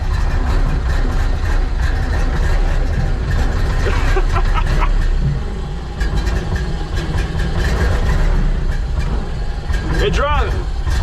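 A 1931 Ford Model AA 1 1/2 ton truck, engine running as it drives after decades idle, a continuous rumbling drone with rattles and clunks, while people talk and cheer over it.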